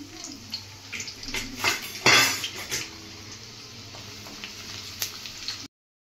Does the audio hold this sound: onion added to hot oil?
yes